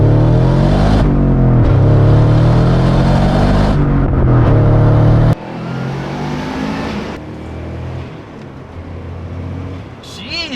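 First-generation Subaru Impreza WRX STI engine revving loudly and close, a strong rising drone that cuts off abruptly, then a quieter engine hum continuing with changing pitch.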